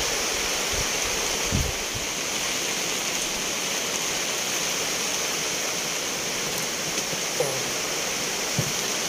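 Heavy storm rain pours down in a rainforest during the cool season, a dense, steady hiss close by with a few soft thumps, and no voices.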